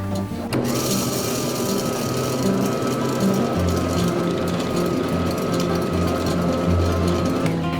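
A stand mixer with a paddle mixes chocolate chips and vanilla into pumpkin cookie dough, making a loud, steady mechanical whir close by, with knocking and labouring as it runs and no talk.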